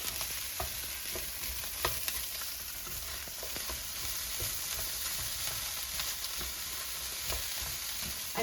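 Ground turkey and potatoes stirred in a skillet, a steady low sizzle with soft spoon scrapes throughout.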